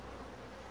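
Honey bees hum in a continuous, close buzz as a hive is opened for inspection, a steady drone with no talk.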